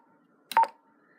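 Motorola two-way radio squelch, a brief burst of crackly noise with a tone lasting a fraction of a second, fairly faint and isolated.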